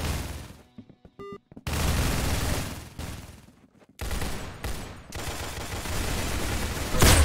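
Game gunfire in Roblox Arsenal: rapid bursts of loud, close weapon fire and crashing impacts come in dense runs, with a few short pauses and sharp clicks in between.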